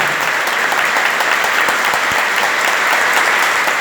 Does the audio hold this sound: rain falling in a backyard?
no